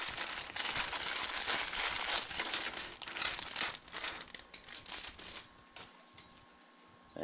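A plastic bag of LEGO pieces being opened, loud close crinkling and crumpling that gradually thins into scattered rustles and small rattles near the end.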